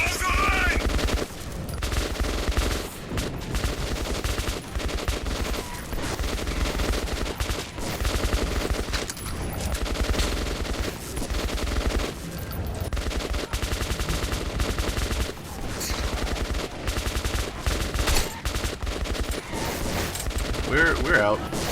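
Rapid, sustained gunfire fills a battle in the video game Metro 2033 Redux, with dense fusillades and machine-gun bursts repeating loudly throughout while voices shout over the shooting.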